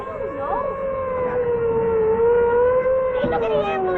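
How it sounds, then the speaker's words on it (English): An ambulance siren wails in a 1940s radio drama, a loud continuous rising-and-falling electronic tone held close throughout, with a brief extra tonal burst near the end. "Hey, look at the ambulance."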